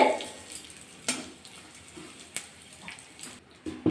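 Whole cumin seeds and a pinch of asafoetida sizzle in hot oil for a pea kachori filling, a soft crackle broken by a few sharp clinks and stirring scrapes.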